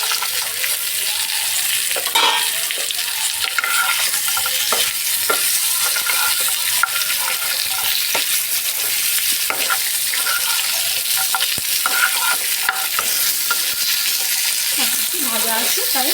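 Vegetables with drumsticks and eggplant fry in a pan for Bengali shukto, a steady, close sizzle under repeated stirring and scraping throughout, with occasional small clinks.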